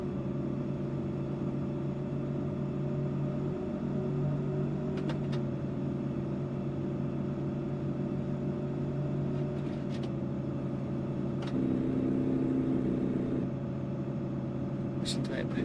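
A custom Knight Rider battle truck engine in American Truck Simulator hums with a steady low idle drone throughout, a smooth continuous purr with slight shifts in pitch partway through.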